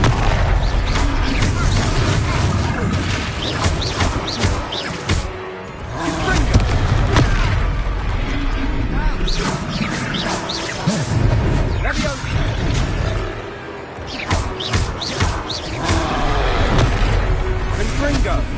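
Confringo blasting-curse explosions in a Hogwarts Legacy battle on PS5: heavy booms and thuds fire in rapid, dense succession over a constant loud rumble of combat, with voices mixed in.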